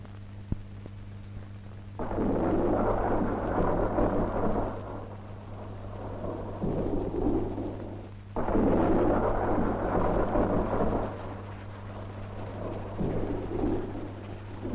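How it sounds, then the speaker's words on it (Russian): Heavy thunderstorm with rain in an ancient swamp forest: two long, loud rumbling bursts of thunder roll over a steady rain wash and a low constant hum, with no voices. "Во время частых грозовых ливней гибло много деревьев-гигантов."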